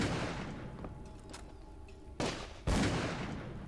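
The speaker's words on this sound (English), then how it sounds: "And lots of gunshots." Gunfire rings out in the video game Call of Cthulhu: Dark Corners of the Earth, with a reverberant tail fading and then two loud, sudden shots in quick succession.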